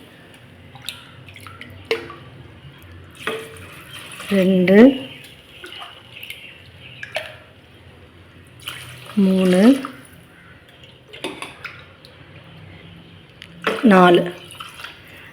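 Water poured from a tumbler into a pressure cooker for mutton biryani, four tumblers in all, making soft splashing and trickling between the tumblers while a voice counts aloud over it.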